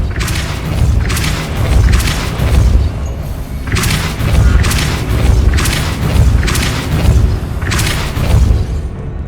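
Spell blasts in Hogwarts Legacy, a series of loud booming thuds with whooshing bursts recurring every couple of seconds over a dense, rumbling game soundscape.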